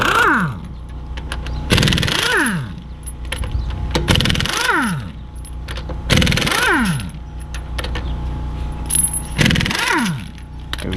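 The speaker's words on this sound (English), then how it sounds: "And let's remove these 519 lugs." Lug nuts come off a 2009 Audi Q7 wheel under an impact wrench, four loud, close whirring bursts of about a second each, each rising in pitch, with short pauses between them.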